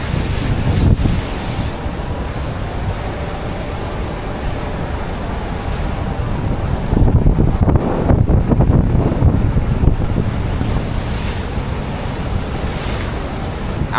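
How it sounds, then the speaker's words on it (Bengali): A ship's propeller running full speed in reverse while a fishing net is fouled on it churns water in a steady, loud roar, with wind buffeting the microphone and a surging swell midway. "ফুল স্পিডে জাহাজের প্রপেলারকে উল্টা দিকে ঘোরানো হচ্ছে, অর্থাৎ রিভার্স প্রপালশন"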